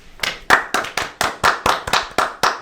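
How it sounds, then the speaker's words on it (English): Sharp, rhythmic clapping from a small audience welcoming Darius Myers, about ten distinct, close claps spaced evenly in a steady beat, crisp and loud with nothing else in between. "round of applause for Darius Myers"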